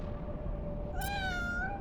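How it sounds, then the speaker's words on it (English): A pet cat meows once at close range in a drawn-out, rising-then-falling call of about a second, over a steady background hum. "Yes, this is my kitty cat."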